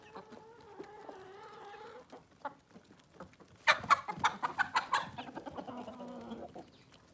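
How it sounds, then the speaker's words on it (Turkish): Backyard village chickens clucking, with rooster-type calls mixed in: a soft run of hen clucks, then a louder, busier burst of overlapping squawks and clucks close by, easing back to steady murmuring clucks. "Bu kadar da tavuğum var."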